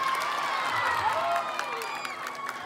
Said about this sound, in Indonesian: Ini semangat oleh tepuk tangan Pak